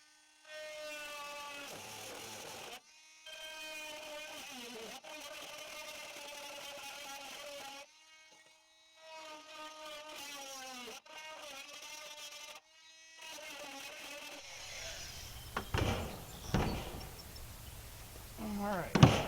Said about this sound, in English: to cut it, I'm just going to use this oscillating tool